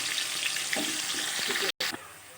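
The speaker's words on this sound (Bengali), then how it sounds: "ভেজে নিই আলুগুলো একটু নুন হলুদ দিয়ে সামান্য" Potatoes with a little salt and turmeric sizzle in hot oil, a dense steady crackle close by with a few stirring scrapes and a brief dropout near the end.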